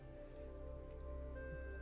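Steady patter of rain on surfaces from a Japanese Zen music recording of a rainy bamboo garden with Japanese flute, playing continuously at a soft, even level with no voices.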